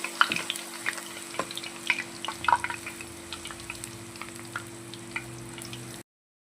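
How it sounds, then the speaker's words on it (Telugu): Puris deep frying in hot oil for Telangana-style aloo curry: a fine, continuous bubbling hiss with scattered crackles and pops, strongest early on, steady and close until it cuts off abruptly near the end. "మనం పూరీలను అయితే డీప్ ఫ్రై చేసుకుందాము ఇలా చక్కగా పొంగుతూ రావాలి"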